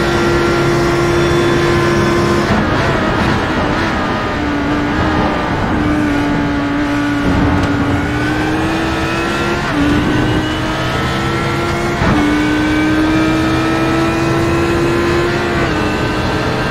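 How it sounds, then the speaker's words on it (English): A loud, steady Audi race car engine in a racing video game, droning at high revs with brief dips at each gear change and then climbing again over several seconds, with no talk. "I haven't hit the rev limiter on the Audi yet"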